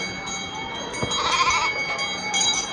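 Sheep on a small farm bleat in a short, faint call against steady outdoor background hiss, with a brief low thump partway through.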